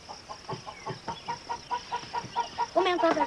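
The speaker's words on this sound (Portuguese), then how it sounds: "Esse aqui é o galinheiro do sítio." Chickens in a farm coop, a close run of short rhythmic clucks pulsing about every quarter second, rising into a louder, busier squawk at the end, fairly faint overall.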